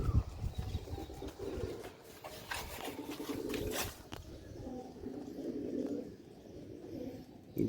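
Lal Motiyan pigeons coo on a rooftop in an ongoing low, throaty burble, fairly faint and mixed with scattered chirps and background clatter.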